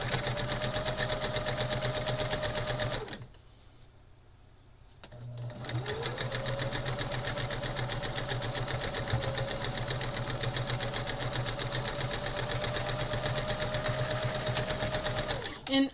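Sewing machine stitching two straight edges of crazy-quilt pieces together, a fast steady mechanical chatter heard close, stopping briefly for a couple of seconds before running again at an even pace.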